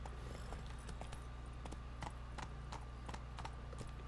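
Geralt's horse Roach trotting in The Witcher 3, a brisk steady clip-clop of hooves close by over a continuous ambient background, no talking.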